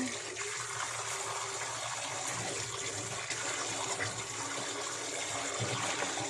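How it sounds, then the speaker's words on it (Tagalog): Raw shrimp being washed under a running kitchen tap, a steady close rush and splash of water that continues without a break for the whole stretch. "So, hugasan natin ulit ang ating hipon."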